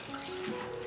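Water from a tap runs over salted shredded radish to rinse it, a soft continuous flowing splash at moderate distance.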